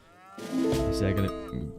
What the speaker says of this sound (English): We also see he's going to be bringing back some cows as well.